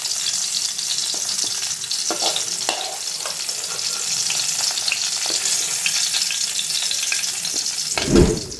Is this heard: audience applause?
no